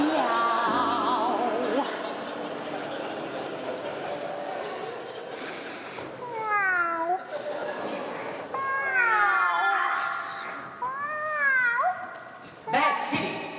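A voice imitates a cat on stage at an awards ceremony, a series of swooping, drawn-out meows in close succession, fairly loud and clear, alternating with stretches of other vocal sound.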